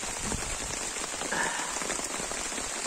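Steady rain patters on a farm plot during an unseasonal March downpour, a dense, even hiss of drops filling the whole stretch without pause and no voices.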